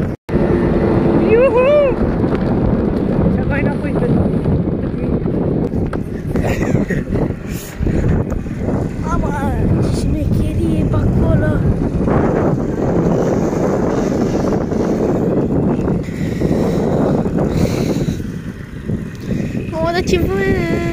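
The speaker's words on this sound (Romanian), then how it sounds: "Ce vânt este pe câmpii" Strong wind gusting across open fields while riding a scooter, roaring as loud buffeting microphone wind noise for the whole stretch, with voices talking and singing over it.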